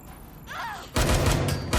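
Gunfire in the video game Watch Dogs Legion: after a brief quieter lead-in, a loud burst of rapid shots erupts near the listener and continues as dense, close firing to the end.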